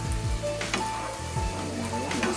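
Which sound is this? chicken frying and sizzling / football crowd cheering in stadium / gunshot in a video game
chicken frying and sizzling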